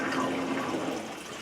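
Water from a hydroponic growing system drains back into the sump, a steady gurgling rush of liquid that slowly tapers off, with no talking.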